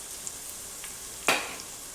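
Onions sautéing in hot butter in a pot give a faint steady sizzle, broken by one clear scrape or stir about two-thirds through.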